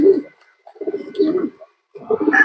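A pigeon at a breeder's loft coos close by, giving a few soft, throaty rolling calls separated by brief pauses.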